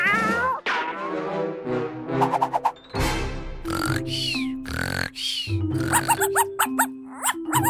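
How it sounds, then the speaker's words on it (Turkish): A kitten mews repeatedly in high, wavering cries, close by, while people talk and laugh over and between the calls. "yavru kedi"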